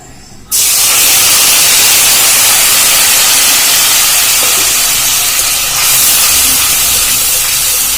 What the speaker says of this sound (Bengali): আমি এবার এর মধ্যে দিয়ে দেবো টমেটো বাটা।